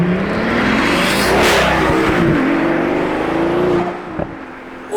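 A Pagani Zonda 760 LH supercar roars past up close, its engine note rising and falling loudly as it sweeps by, then fading quickly into near quiet before a brief burst at the end.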